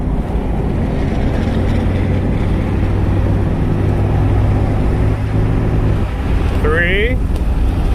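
A GM truck with a 480 transmission accelerates through its gears, with a steady low engine and drivetrain drone and road rumble from inside the cab, a change in tone near the end as it shifts, and a voice speaking over it.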